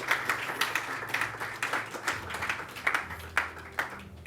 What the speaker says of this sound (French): Le public va vous applaudir bien fort.